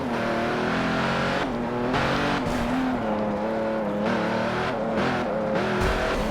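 A car launches hard off a starting line, its engine roaring loud and close as the revs climb and shift through a steady, continuous pull.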